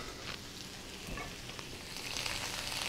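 Celery and ingredients frying in flavored oil in a Breville Hot Wok BEW600XL, a steady close sizzle with soft stirring scrapes, growing slightly louder and brighter toward the end, with no voices.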